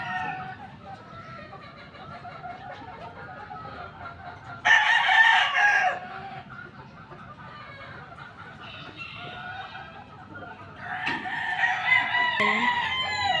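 Roosters crow nearby at a gamefowl farm, one loud call partway through and another drawn-out crow near the end, with soft clucking and background chatter in between.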